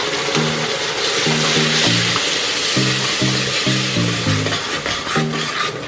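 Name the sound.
tomato puree frying in oil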